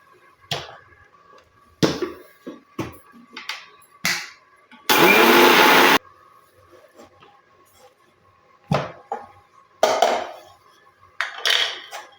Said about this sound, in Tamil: இப்போ இதை நல்லா வந்து பவுட்ரு பண்ணிடலாம்